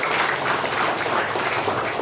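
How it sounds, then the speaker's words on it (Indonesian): Sustained applause from an audience at a PGRI Selajambe branch election meeting, a steady dense wash of clapping filling the whole stretch at even loudness with no voices on top. "Tepuk tangan dulu untuk Pak Fuad dan pengurusnya."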